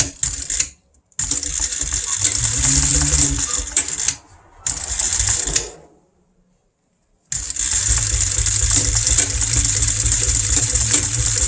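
A sewing machine runs in steady bursts of rapid stitching, stopping briefly twice, with a longer pause before it resumes at a continuous whir.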